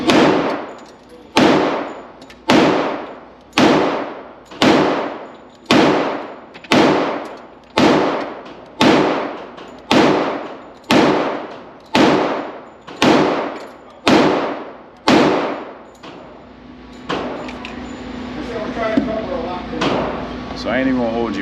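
A Sig Sauer X Ten 10mm pistol fires at a target, about fourteen sharp, loud, close shots in a regular rhythm roughly a second apart, followed by quieter clatter and faint ringing.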